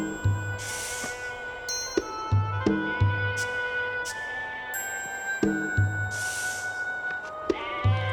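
A sheep bleats repeatedly over a backdrop of sustained tones, the calls returning in a regular rhythm across about eight seconds.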